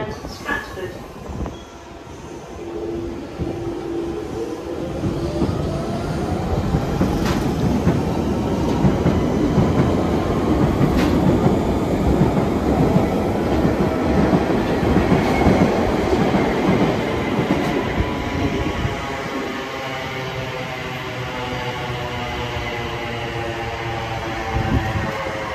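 A London Elizabeth line train pulls away and runs, its motor pitch rising, then settling into a loud, steady rumble with rail clatter that lasts throughout, heard from inside.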